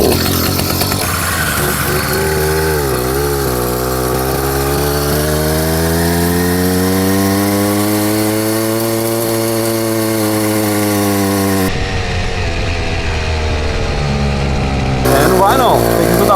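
A small 80cc motorized bicycle engine fitted with a 60-tooth sprocket strains up a steep hill, its loud buzzing note rising and falling in pitch as it labors, close and continuous before the revs drop near the end.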